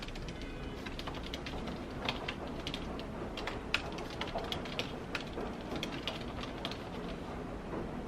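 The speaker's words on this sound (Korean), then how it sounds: "그냥 타자 소리가 좋으니까 조금 길게 넣어볼게요" Computer keyboard typing during video editing at home, a quiet, steady stream of soft clicking keystrokes at an irregular quick rhythm, close and alone with no talk.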